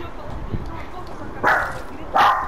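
A dog barks twice, loudly and close by, with sharp yelping bursts about a second apart. A voice is heard faintly underneath.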